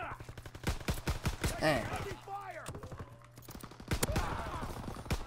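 M1911 pistol gunfire in the video game Call of Duty WW2, during a hardcore kill-confirmed match, as quick sharp shots in bursts alongside other game noises, with someone talking over them.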